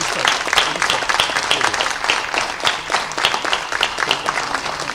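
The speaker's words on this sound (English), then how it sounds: "Can we have a big round of applause for all the speakers?" Steady applause from a seated audience at a speaking event honoring the speakers, a dense sustained patter of clapping at moderate distance with no voices over it.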